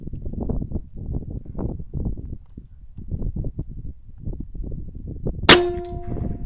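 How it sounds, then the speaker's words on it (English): A rifle shot strikes a steel spinner target at a shooting range, giving one sharp metallic clang with a ringing tail near the end, after several seconds of low rumbling background. "see if I can't hit one of those spinners"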